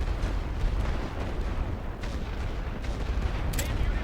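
Artillery shelling enemy trenches in the WW1 strategy game The Great War: Western Front, a dense continuous rumble of distant booms and gunfire rolling without pause.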